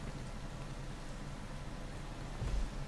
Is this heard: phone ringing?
no